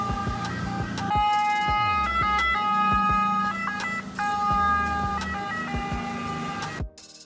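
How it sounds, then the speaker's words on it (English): Water ambulance siren wailing loud and close, a repeating two-tone electronic pattern with horn-like bursts, cutting off abruptly near the end. "This is a water ambulance."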